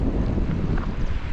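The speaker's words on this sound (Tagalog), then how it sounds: "Lakas ng hangin." Strong wind roars and buffets the microphone in a dense low rumble outdoors near an airport in Salalah, Oman, loud and continuous with no break.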